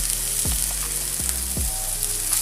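Chopped ginger, garlic and vegetables sizzle steadily in a hot pan, a continuous close frying hiss with a few brief stirring scrapes or taps, and no voices.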